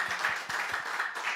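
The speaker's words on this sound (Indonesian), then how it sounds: "Tepuk tangan dulu yang meriah buat Tuhan kita." Church congregation clapping together during a sermon, a loose, moderately close burst of many hands with several distinct strong beats standing out.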